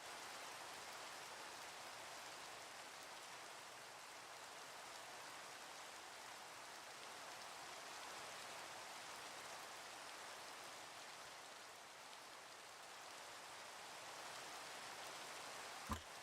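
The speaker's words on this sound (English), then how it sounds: "get rid of the rain" Steady rain in Minecraft, a broad even hiss of falling drops holding at a constant level throughout, with no voices and a brief click right at the end.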